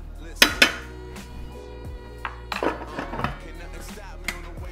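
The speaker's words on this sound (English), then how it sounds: "And we're gonna give that a little stir." Cuban-style picadillo stirred in a pot, with a few sharp utensil clanks against the metal followed by softer scraping and tapping, close by and fairly quiet.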